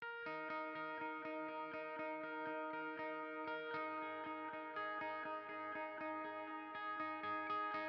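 Clean electric guitar plays a steady rhythmic pattern of chords and notes, with a slight chorus-like shimmer, no voices.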